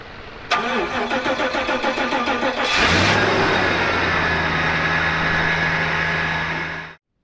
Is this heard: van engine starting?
yes